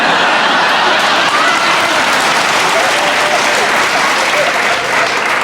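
A dense, loud wash of studio audience applause at a BBC Radio 4 comedy award recording, steady and unbroken for several seconds.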